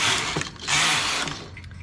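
A knitting machine carriage working a two-colour brick stitch, giving a brief close mechanical rasp and clatter in two sliding bursts, no talking.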